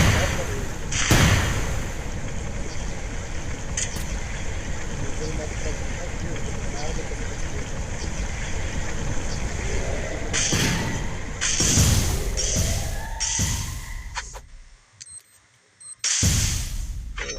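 Grenade blasts in a multiplayer shooter game come as several loud, broad bursts set against a constant roar of battle noise, with a brief near-silence just before the final blast. Players talk over the action throughout.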